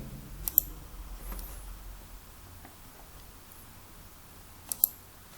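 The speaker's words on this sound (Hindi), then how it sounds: "फिर हम सेव बटन के ऊपर क्लिक कर देंगे" Two sharp computer mouse clicks, one early and one near the end, as the save button is pressed; the clicks are quiet and close, with a faint hiss between them and no talking.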